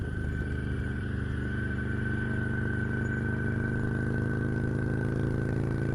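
A motorbike engine runs steadily and loud throughout, with a low droning hum and a constant mid-pitched whine, no clear start-up or pull-away surge.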